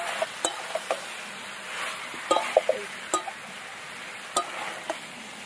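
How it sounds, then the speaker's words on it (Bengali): Spices sautéing in a pan for a fish curry, a low steady hiss with scattered sharp knocks and scrapes of a stirring spoon, close by and without talk. "একদম ভালো করে কিন্তু কষানো হয়ে গেছে"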